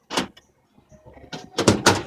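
A Honda Odyssey minivan's sliding door, with a worn roller, rumbles and clunks along its track in a few short bursts, close by, with brief quiet gaps between movements.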